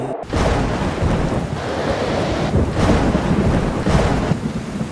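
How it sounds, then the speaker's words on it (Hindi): Animated thunderstorm sound effect: heavy rain pours steadily and loudly while rumbling thunder swells and rolls several times, no speech over it. "सच में बारिश हो रही है"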